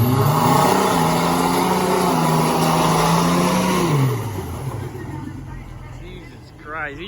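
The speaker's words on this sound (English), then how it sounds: "You hear the wastegate on that shit?" At an Orlando Christmas car meet where two Subarus are about to race, a turbocharged car revs loudly and holds high, then the engine note drops away and the wastegate hiss fades into softer noise, with no talk.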